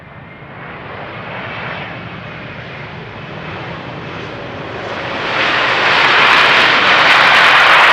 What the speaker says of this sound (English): that must be the 777 on the far left, making its way to the glide slope.